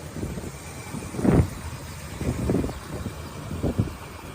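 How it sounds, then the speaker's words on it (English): A muscle car with a 400 engine, 750 Edelbrock four-barrel carburetor and headers rumbles in a low, steady drone, with three louder revving surges spread across a windy outdoor recording. "400 engine, tubular control arm, 750 Edelbrock carburetor, 4-barrel headers. This car sounds great"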